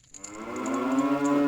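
A cow in the Nintendo 64 game The Legend of Zelda: Majora's Mask gives one long, low, sustained moo that swells and holds, heard alone and up close.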